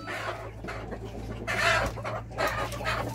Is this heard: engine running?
no